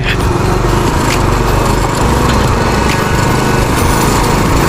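Loud, close motorbike engine drone on a day ride to Usri waterfall in Jharkhand, a steady buzzing roar with wind rushing over it and no pauses throughout.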